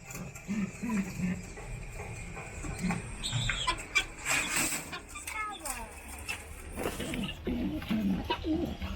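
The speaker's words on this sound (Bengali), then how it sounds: "কবুতর সব" Pigeons coo among a mix of backyard birds, with chickens clucking nearby and a voice speaking intermittently over the steady soft calls.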